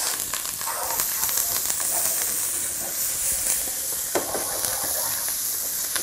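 Ginger, chili, coriander root and curry leaves sizzle in a hot pan for an upma breakfast dish, a loud, continuous bright hiss of frying with occasional crackles and stirring scrapes.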